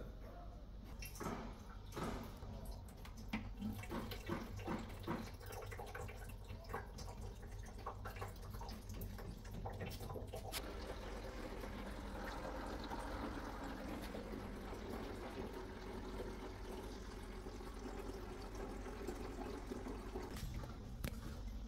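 Water sloshing and trickling as leftover water is removed from a Beko dishwasher that will not drain, with irregular clattering and splashing early on, then a steady wet rushing wash that continues to the end.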